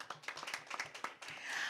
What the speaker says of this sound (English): A round of applause for our adjudicators.